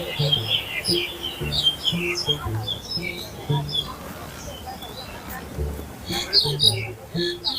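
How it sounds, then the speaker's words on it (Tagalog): Small birds chirp and tweet in bursts across the trees of Kowloon Park in Hong Kong, with a few low cooing calls, under someone talking nearby. "Naririnig niyo ba yung mga ibon?"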